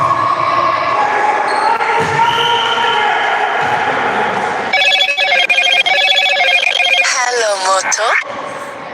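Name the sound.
telephone ringing during a live stream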